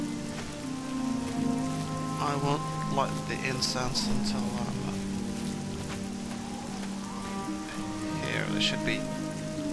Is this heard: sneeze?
no